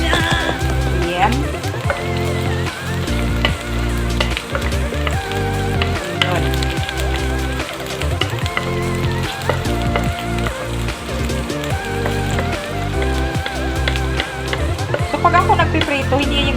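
Steady sizzling and crackling of fish frying in a little hot oil, continuous and close throughout, with background music playing over it.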